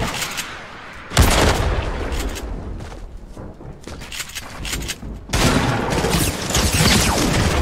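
Quad launcher rockets fire and explode in a Fortnite match, a loud burst of blasts at the start and again near the end, with rumbling booms in between.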